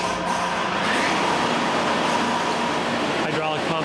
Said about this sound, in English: Hydraulic pump and main motor are started by push button on the pedestal